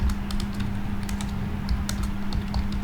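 Steady rapid clatter of keys on a computer keyboard as code is typed, continuous and close, with no speech.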